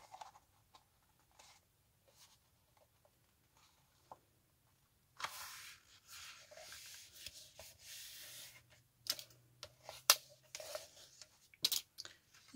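A sheet of decorative craft paper is folded in half by hand, giving soft rustles and a few sharper crinkling, creasing bursts in the second half, quiet and close with no talking.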